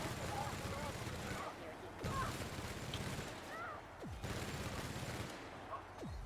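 Rapid bursts of gunfire from a weapon in the video game The Outer Worlds, repeated dense volleys separated by short pauses, loud and close, with a voice talking in between.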